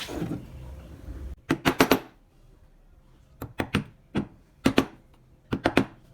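A small gouge chisel, a pahat kol, cutting ornament lines into wood: quick clusters of three or four sharp taps with quiet gaps between them, close and clear.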